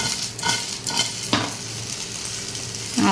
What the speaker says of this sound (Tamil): இப்படி திரிக்க விடும்போதே தெரியும் உங்களுக்கு அந்த சவுண்டு கிறிஸ்பி